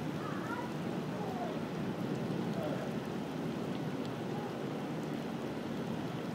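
Heavy downpour at a Kansas fair, a steady dense hiss of rain filling the whole stretch with no letup, fairly loud and close.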